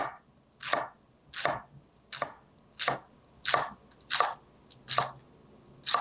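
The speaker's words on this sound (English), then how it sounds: "we're gonna thinly slice a shallot" A knife thinly slices a shallot on a cutting board, giving eight or nine crisp, evenly spaced cuts about once every two-thirds of a second, close and clear with no talking.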